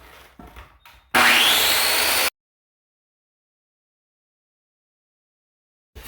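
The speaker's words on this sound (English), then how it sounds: "And now with the Sawzall, you can finish the corners." A Sawzall reciprocating saw cuts into a plywood subfloor in a single loud, harsh burst lasting about a second, then cuts off into silence.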